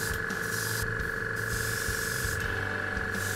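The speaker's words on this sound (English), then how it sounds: "At first, it was airbrushed as a fine layer, and once this layer dried, I applied a heavier layer in the more prominent areas." Airbrush spraying desert yellow paint onto an Alien Queen chestburster model kit, a steady continuous hiss close to the mic with small shifts in intensity and no voices.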